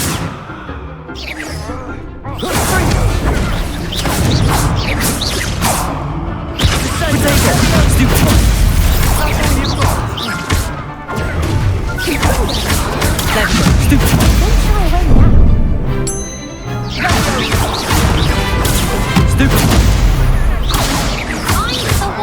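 Spell-casting combat in Hogwarts Legacy at Goblin Tower: a dense, continuous barrage of booming blasts, crashes and thuds, loud and sustained with brief lulls, while a voice shouts spell incantations over the fighting.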